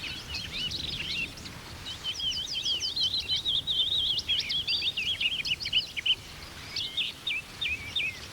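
A song thrush sings a mimicking song, repeating quick, sharp, chattering phrases in clusters with short pauses, loud and near against a quiet outdoor background.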